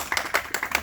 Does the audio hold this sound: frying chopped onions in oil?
no